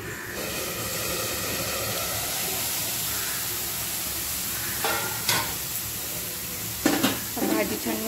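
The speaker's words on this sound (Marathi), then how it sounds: "भाजी छान मिक्स करून घेऊया।" Beetroot sabzi sizzles and hisses steadily in a kadhai while a spatula stirs it, with a few louder scraping clanks of the utensil against the pan near the end.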